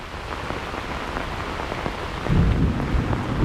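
Heavy rain pours down in a thunderstorm near a muddy, swampy area, a dense steady roar joined by a deep rumble of thunder that swells louder in the last second.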